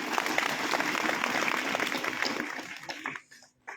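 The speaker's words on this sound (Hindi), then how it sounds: "रमेश भाई के लिए जोरदार तालियां।" Audience at a community event giving loud applause as a man named Ramesh is called up, dense clapping that holds steady and then thins out and stops near the end.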